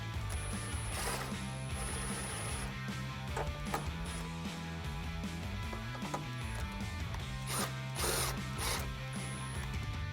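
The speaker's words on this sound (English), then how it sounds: "tighten down these top bolts with a 10mm socket" A ratchet with a 10mm socket tightens the top headlight bolts on a 2016-2020 Toyota Tacoma, giving repeated close, rapid clicking bursts in short strokes with brief pauses between them, no talking.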